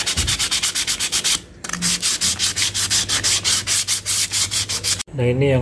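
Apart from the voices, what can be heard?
sanding scooter CVT roller housing with sandpaper on sandal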